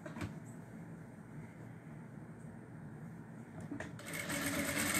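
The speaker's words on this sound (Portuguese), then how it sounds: "Posso overlockar? Pode, bem na ponta da overlock." Overlock sewing machine finishing the edge of doll pajama fabric, a steady close mechanical whir that grows louder near the end, with no clear talking.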